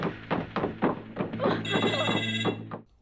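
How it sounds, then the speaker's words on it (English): A telephone rings in a horror film scene, a steady electronic bell trill sounding in repeated bursts alongside muffled thumps and film audio. "The kid gets spooked, but now the phone's ringing."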